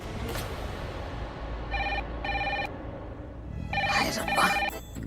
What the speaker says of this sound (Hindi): ये आधी रात को कौन फोन कर रहा है?